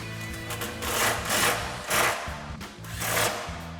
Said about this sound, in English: we're gonna grab our impact and 10mm socket and tighten down our flange